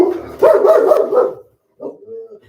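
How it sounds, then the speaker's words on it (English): Dogs at play give a few close, loud barks and yips in a quick cluster, then a short pause before a softer whine-like bark. "These dogs are playing."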